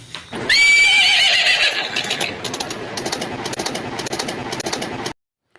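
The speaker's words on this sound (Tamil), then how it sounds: "நாட்டு குதிரையில் பெண் குதிரை இது" A country-bred horse mare gives one loud, shrill whinny close by, followed by a run of rough snorting and rumbling breaths until it cuts off abruptly.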